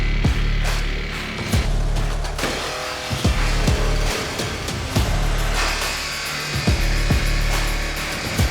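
Power tool cutting through a van's metal body panel for flare installation, a loud, continuous grinding rasp with repeated sharp clicks and knocks throughout, close and dominant.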